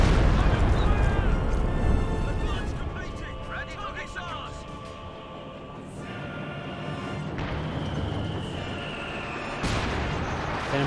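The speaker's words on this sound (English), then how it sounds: "And mortar hits there." Mortar artillery barrage in Company of Heroes 2: booming impacts and rumbling explosions over continuous battle noise, loud and dense, with a commentator talking over the action.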